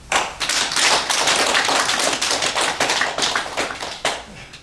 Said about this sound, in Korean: 그 하나님께 영광의 박수